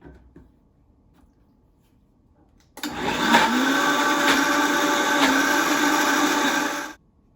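A blender pulses pistachios into nut butter, starting abruptly after a quiet moment and running as a loud, steady whirring roar for about four seconds before cutting off.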